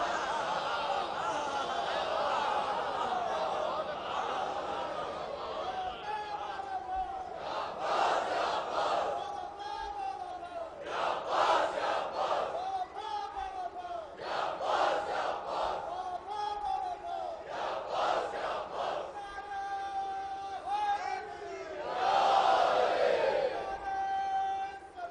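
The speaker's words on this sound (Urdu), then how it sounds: "مسلسل آپ حضرات نعرے لگا رہے ہیں" Large crowd at a Jashn-e-Abbas religious gathering in Lucknow chants slogans in loud rhythmic bursts, repeated call-and-response waves rising and falling over a sustained roar of voices.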